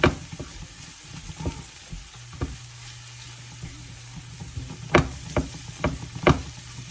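Garlic, onion and peppers sizzle steadily in a frying pan, with soft stirring scrapes and a few sharper clicks and taps rising over the constant hiss.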